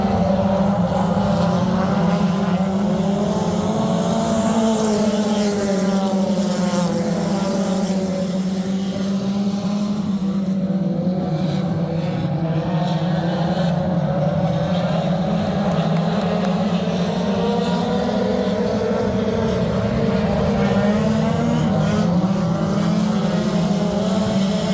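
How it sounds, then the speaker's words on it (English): Race car engines run at high RPM through an entrance chute, a loud sustained drone whose pitch swells and dips steadily for the whole stretch, with no voices. "It's really neat to watch the cars come by there and hear the RPM difference in some of these setups."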